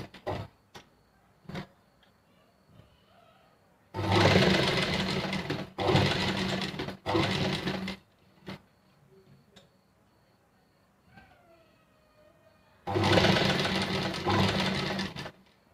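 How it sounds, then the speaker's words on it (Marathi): A sewing machine stitches piping for a blouse neckline in several bursts of rapid, even stitching of a few seconds each, separated by quiet pauses with small clicks and handling sounds. "ह्या खाचेमध्ये आपल्याला टिप घ्यायची आहे की जेणेकरून आपली एवढ्या साईजची पायपिंग तयार होईल"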